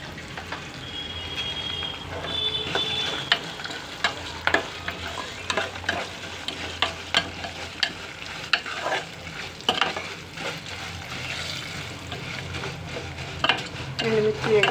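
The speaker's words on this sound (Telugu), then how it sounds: "ఎండుమిర్చి వేగుతుంది." Dried red chillies fry in hot oil for pulihora with a steady sizzle, broken by frequent scraping stirs of a spoon against the pan, close and fairly loud throughout.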